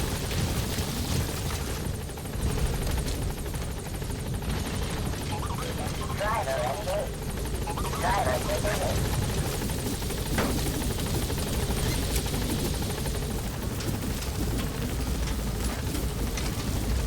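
A helicopter in Metal Gear Solid V approaches a landing zone, its steady loud rotor drone and buzzing engine filling the whole stretch while a radio voice speaks over it.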